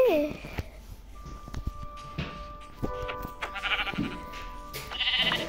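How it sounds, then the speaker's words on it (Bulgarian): Sheep bleat in the Minecraft video game, several wavering cries over a steady game soundscape, while a young player talks excitedly over them. "Овце!"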